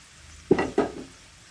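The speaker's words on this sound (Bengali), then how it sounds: "ভেজে রাখা মাছগুলো এখন দিয়ে দিচ্ছি" Pieces of fried fish drop into a pan of hot simmering curry, two quick close splashing thuds a moment apart, each followed by a brief sizzling hiss that fades out.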